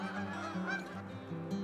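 Geese honk repeatedly in a migrating flock along the Mississippi Flyway, with overlapping nasal calls coming in quick bursts, moderately near and fairly loud, with no talking.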